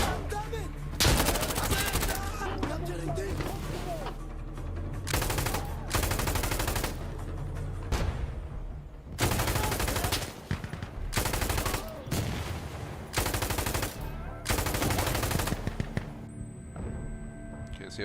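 Gunfire in Mouse: P.I. for Hire, a video game, shooting through a wall: repeated loud bursts of rapid automatic shots with brief pauses between volleys, close and dominant throughout.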